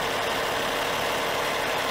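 A 600-horsepower Cummins diesel in the engine compartment of a 2012 American Heritage 45T motorhome runs with a steady, dense, even roar, loud and close throughout with no voices.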